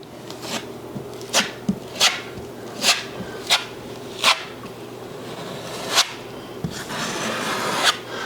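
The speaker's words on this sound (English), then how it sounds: "I'm just pressing with the knife to push out all of that extra drywall mud underneath those flaps" A putty knife scrapes and presses drywall mud over a wall patch in a series of short, sharp rasping strokes, roughly one every second, close and fairly quiet with no talking.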